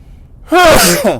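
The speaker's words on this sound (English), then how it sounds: "Sorry, I had to sneeze there." A single sharp, close sneeze, a brief intake of breath followed by a loud burst.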